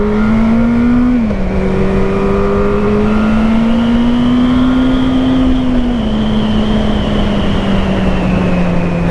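Yamaha FZ8 inline-four motorcycle engine revving while riding, a loud close steady drone that shifts pitch slightly as it holds high revs, with wind rush underneath.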